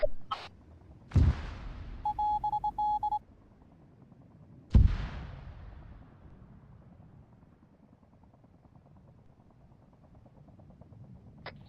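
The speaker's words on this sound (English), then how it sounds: "Mortars, sting cover." Mortar rounds land during a military field exercise: two sharp, loud distant booms several seconds apart with long rolling echoes, and a brief radio-like tone between them.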